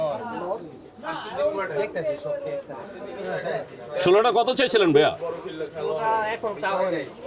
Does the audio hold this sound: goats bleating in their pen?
no